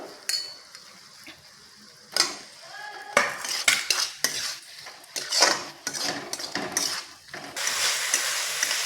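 Fried potatoes being stirred into a spice paste in a pan, uneven bursts of spoon scraping and clanking against the metal over a soft sizzle, the last second or so noisier and hissier, no voices.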